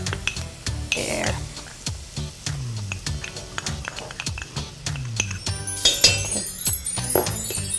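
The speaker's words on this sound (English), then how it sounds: "continuously stirring it with our wire whisk, we are going to add 3 tablespoons of all-purpose flour" A wire whisk stirs flour into sizzling onions and garlic in a pan, giving steady rhythmic metallic clinks and scrapes over a soft frying hiss, close up, with brief talking.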